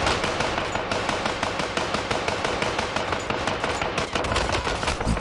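Rapid bursts of automatic gunfire and bullet impacts from a shooter video game, dense and continuous at close range, with no talk over it.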